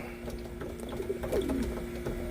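Racing pigeons returning to the loft after a 150-mile race coo softly, with a low, rolling call rising over a steady background hum, brief and fairly near.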